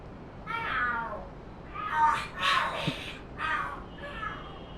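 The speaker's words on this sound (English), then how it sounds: "Are there cats fighting? What are they screaming for?" Cats screeching and yowling in the video game Lost Judgment, several loud, wavering cries in quick bursts close by, with no talk over them.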